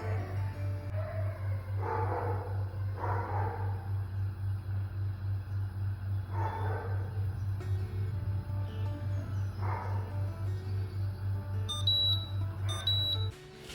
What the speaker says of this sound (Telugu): ఇప్పుడు బీప్ సౌండ్ వచ్చింది కదా, ఆడియో థర్మ్ రిమూవ్ చేసేసి లిడ్ ఓపెన్ చేసేద్దాం